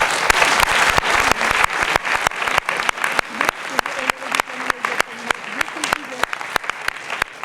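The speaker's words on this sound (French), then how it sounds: "je voudrais qu'on applaudisse très fort" Applause at a film presentation honoring director Jacques Deray: a crowd claps under sharp, rhythmic nearby hand strikes, with a voice talking over it partway through.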